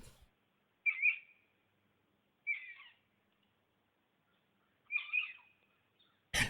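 Three separate high-pitched chirping cries from a captive otter in its pen, evenly spaced with silence between them, with no other sounds nearby.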